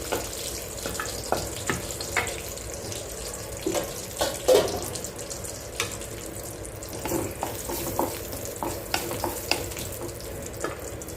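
Cashews sizzle in hot fat in a pan while bottle gourd halwa is being made, a steady low frying hiss punctuated by scattered clicks and spatters, with no talk over it.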